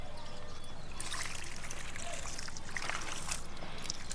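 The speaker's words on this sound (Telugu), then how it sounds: "కలిపేస్తే మనం నీళ్ళు వేస్తాం కదండి ఇలా కిందకే దిగుతూ ఉంటుంది" Water trickles and pours onto freshly mixed soil around a young mango plant, a steady soft dribble that soaks in close by, with faint outdoor background and no speech.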